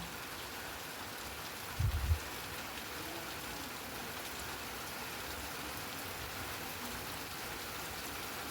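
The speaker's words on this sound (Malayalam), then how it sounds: "മഴ കൂടിക്കൊണ്ടേയിരിക്കുന്നു കൂടുന്നു കുറയുന്നു കൂടുന്നു കുറയുന്നു ഇങ്ങനെ" Steady rain falls continuously in a soft, even hiss, with a brief low thump near the start and no voices.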